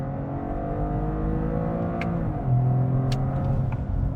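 A Toyota GR Corolla with an 8-speed automatic accelerates hard in manual mode, its engine droning loudly and steadily with pitch shifts as gears change, plus sharp clicks and a louder surge toward the end.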